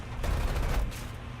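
Bomber gunners open fire in the flight combat game Aces of Thunder: a loud, rapid burst of gunfire rattling for about a second, then tailing off.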